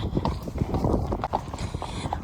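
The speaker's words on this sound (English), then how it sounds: "2 happy horses, ears pricked forward, very happy to be going on a ride." Hooves of two ridden horses clip-clop steadily on a road during a hack, a close, brisk overlapping rhythm of hard knocks with some faint rustling between strikes.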